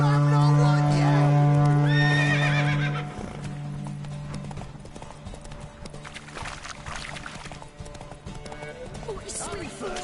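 In The Witcher video game, a horse whinnies loudly at the start, then hooves clip-clop at a steady run under game music and a voice.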